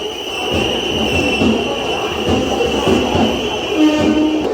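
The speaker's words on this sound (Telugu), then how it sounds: "కొక్రాజర్ చర్లపల్లి అమృత్ భారత్ ఎక్స్ప్రెస్ కొత్త ట్రైను" The new Amrit Bharat Express, running Kokrajhar to Cherlapally, rolls steadily past, with a continuous loud rumble of wheels, rhythmic clacking over rail joints, and a high metallic whine held throughout.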